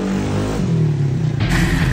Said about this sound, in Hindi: मुझे आवाज तो आ रही है बाइक की।